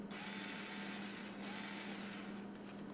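Small Tulroom 3.7V lithium cordless screwdriver running in drill mode, giving a steady, even motor whine with a constant hum that holds for the whole few seconds, fairly close and with no talking.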